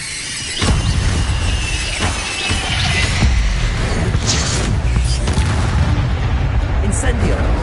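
The Incendio fire spell is cast in Hogwarts Legacy on PS5: loud bursts and whooshing crackles with sharp impacts over dense game noise, rushing and roaring through the stretch.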